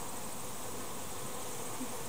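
Honey bees buzzing around an open hive during an inspection, a steady faint drone filling the background without pause.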